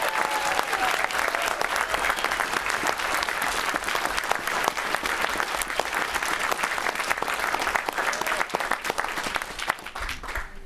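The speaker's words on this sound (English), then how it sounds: "Let's hear it for all of you." Sustained audience applause fills a public hearing on protecting Minnesota and the Boundary Waters from copper-nickel sulfide mining, with dense steady clapping and a few sharper claps over about ten seconds, no speech on top.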